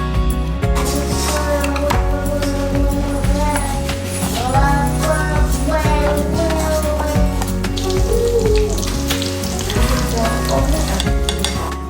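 Ahi tuna katsu frying in oil, a loud, dense and continuous crackling sizzle up close, with music or background tones running underneath.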